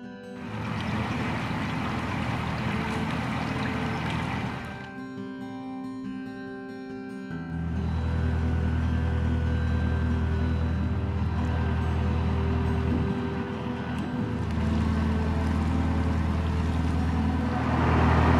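A narrowboat cruises along an English canal, its steady low engine drone running throughout, dipping briefly before returning loud and continuous with a faint tonal hum above.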